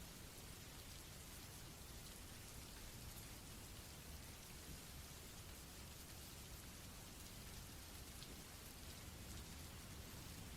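Steady rain falls in a dense, even hiss for the whole stretch, constant and unbroken with no voices.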